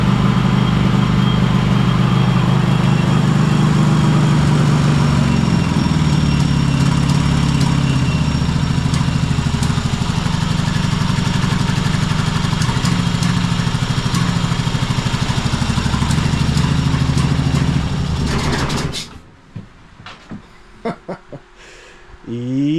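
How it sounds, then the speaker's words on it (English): Kohler V-twin engine on a Cub Cadet Super LT1554 lawn tractor runs rough, apparently on one cylinder, a loud, close, uneven idle with a lumpy beat that holds steady, then cuts out near the end, leaving faint clicks and knocks. "Yeah, sounds pretty rough. Fired right up though, but I'm pretty sure it's just running on one cylinder."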